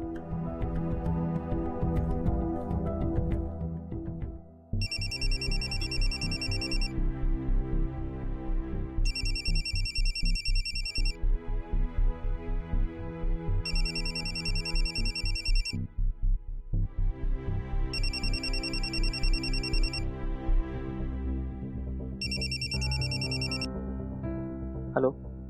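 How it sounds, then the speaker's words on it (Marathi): An outgoing phone call rings in a Marathi TV drama scene, with five evenly spaced electronic ring bursts playing over steady background music. "आदित्यला फोन करून बघते"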